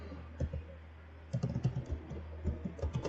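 Clicky computer keyboard keys are typed in short bursts at moderate volume over a faint steady hum, with a pause before a quicker run of keystrokes, during an online German class.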